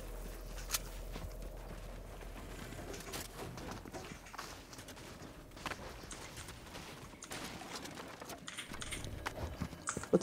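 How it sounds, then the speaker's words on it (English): Fast running footsteps in the video game Fortnite during a squads match, a steady patter of close game steps with scattered impacts under a busy game mix and brief talk. "Footsteps at me. Footsteps on me."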